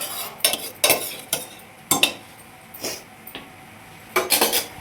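Cooked moong dal stirred in a pot for sweet pesara payasam, a ladle knocking and scraping against the vessel in several separate bursts with quiet pauses between.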